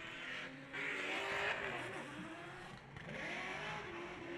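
Drift cars racing through a track section at Trackwood, engines roaring and tyres screeching, with a clutch-kick rev surge; distant and fairly quiet, no talking.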